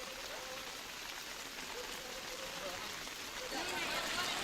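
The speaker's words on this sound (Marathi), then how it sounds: "पंढरपूरच्या मंदिराजवळ पावसाची दृश्य आहेत" Heavy monsoon rain pours steadily near the temple in Pandharpur, a broad, even hiss of falling water with faint voices and movement underneath, swelling slightly louder toward the end.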